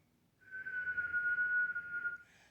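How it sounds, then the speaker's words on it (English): Someone whistles through pursed lips, gently blowing a single sustained, steady tone that holds for nearly two seconds before fading, clear and close against a quiet room. "So I purse my lips"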